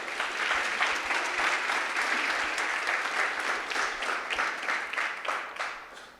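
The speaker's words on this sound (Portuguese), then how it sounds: "Dê um aplauso ao Senhor." A church congregation at Videira Goianésia applauds during a sermon, with sustained, even clapping at moderate volume for several seconds.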